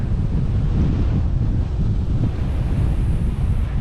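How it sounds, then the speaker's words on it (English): Strong headwind roars steadily across the microphone on a long road bike ride near Hagerman National Wildlife Refuge, Texas, a dense, continuous low buffeting with no talk and no pauses. "We've got a big headwind, and we've got to climb that hill in front of us."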